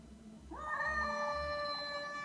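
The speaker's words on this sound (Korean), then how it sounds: "선생님의 고양이가 강아지를 때리는 바로 이 영상" A single drawn-out cat meow, rising then holding steady, close and clear over a low background hum.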